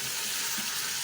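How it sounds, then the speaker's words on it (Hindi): Bone-in meat sizzles as it fries in oil for a goat or mutton curry, a soft, steady crackle heard briefly and fairly quietly with no talking. "अब ऑयल में हमने इसको भून लेना है।"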